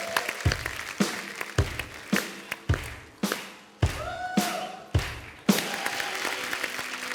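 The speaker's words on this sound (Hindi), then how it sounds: "मैं आप सबकी जोरदार तालियों के बीच बुलाना चाहूंगा, प्लीज वेलकम ग्लैडसन पीटर।" Scattered hand claps and thumps from a small studio audience at The Kapil Sharma Show welcoming a guest, irregular and fairly close, with faint voices underneath.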